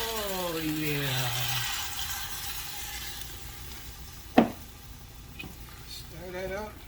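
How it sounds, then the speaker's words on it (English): A beef stew thick with broth is stirred in a pot, a soft scraping and sloshing under a faint background hum, with one sharp knock of the spoon against the pot partway through. "Stir that up."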